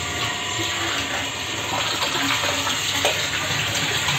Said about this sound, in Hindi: पाइप से नहाने का तो मज़ा ही अलग है यार।